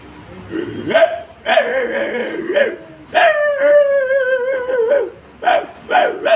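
A person's voice imitates an angry dog, with a series of harsh, growling barks and yelps in bursts, close and loud, separated by short pauses.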